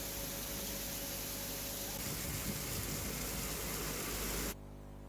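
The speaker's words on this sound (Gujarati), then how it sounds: "રાજકોટ જિલ્લાના ઉપલેટામાં વરસાદ શરૂ થયો છે" Steady, dense hiss of heavy rain pouring down in Upleta, Rajkot district, Gujarat, continuous and loud with no voices, ending abruptly just before the close.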